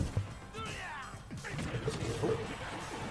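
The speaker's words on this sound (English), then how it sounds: "Good forward smash." Forward smash attack landing in a Super Smash Bros. Ultimate match between Little Mac and Incineroar, a sharp crashing impact with a whooshing swipe, followed by more game effects.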